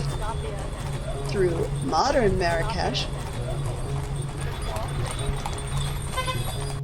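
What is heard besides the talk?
horse hooves clip-clopping, horse-drawn caleche ride in Marrakesh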